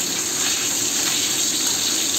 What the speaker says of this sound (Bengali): মাছ ভাজাটা বসিয়ে দিয়ে আগে আমি রেডি হয়ে নিচ্ছি।